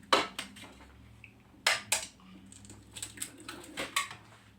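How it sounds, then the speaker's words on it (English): Eggs are cracked for breakfast sandwiches, with several sharp, close taps against a hard edge, some in quick pairs, followed by lighter clicks and shell rattles against a quiet kitchen background. "I'm gonna crack our eggs"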